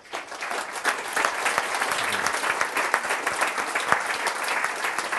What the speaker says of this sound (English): You've gone too early on the applause.